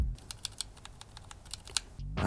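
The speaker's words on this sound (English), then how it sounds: "So here's a regular unlubed switch. And then here's the coveted lubed switch." Mechanical keyboard switches, one unlubed and one lubed, pressed by hand: a quick run of crisp, close plastic clicks with slightly uneven spacing, bracketed by brief louder handling thumps.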